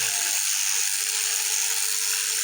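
Steady high-pitched electric buzzing of sheep shearing clippers running continuously during sheep shearing, loud and close, with a brief low thump at the start.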